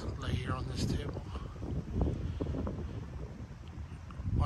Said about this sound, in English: watch those pine trees sway in the wind, feel that breeze off the lake, just hear the nature.